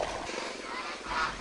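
Geese on a goose farm honk in a brief, close, nasal run of calls over a constant background noise.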